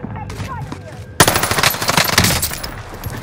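Loud close machine gun fire in Warzone, a sudden burst of rapid shots that breaks out after a quieter stretch and keeps rattling on.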